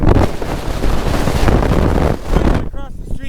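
Typhoon Merbok in Nome, Alaska, with loud, roaring gusts buffeting the microphone for several seconds and sideways rain driving through, then a sudden drop to quieter wind near the end.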